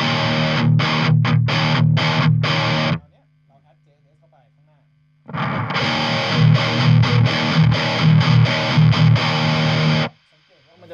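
Electric guitar played through a Boss JB-2 Angry Driver pedal on its Boss side gives a loud, heavily distorted riff with choppy muted stabs, then a pause with low hum, then a longer sustained crunchy passage that cuts off.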